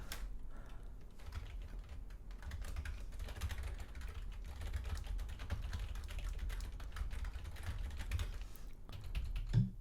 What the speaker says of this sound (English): Now, if I start typing new things,